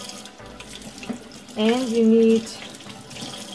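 Hot water runs briefly from a tap into a sink while baby bottles are being cleaned, a steady rushing stream under a voice that keeps talking.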